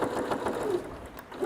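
A sewing machine stitches around the outer edge of a lined fabric piece, giving a brief, fairly quiet run of rapid, even whirring.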